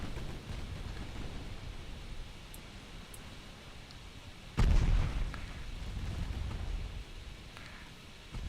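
Naval guns firing in the Ultimate Admiral Dreadnoughts warship game, a single deep boom rising abruptly out of a steady rumbling sea-and-battle ambience, moderately loud, with no speech.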